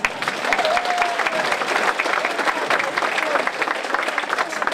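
A concert audience applauds, dense steady clapping from many hands filling the whole stretch without a break, with a brief voice rising above it.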